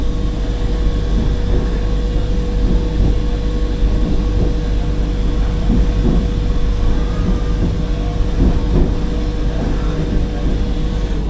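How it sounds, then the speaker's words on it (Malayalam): Mumbai LTT–Ernakulam Duronto Express hauled by a WAP-7 electric locomotive approaching Udupi station, a steady loud rumble of wheels and carriages rolling past without pause, with a faint horn-like tone running through it. "വിശാഖപട്ടണത്തിലെ 37753 വാപ്പ് 7. ഇത് മുംബൈ LTT എറണാകുളം ദുരന്തോ എക്സ്പ്രസ് ആണ്."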